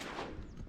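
A single shotgun shot during a duck hunt over reeds gives one brief, muffled, fairly faint boom with a short fading tail.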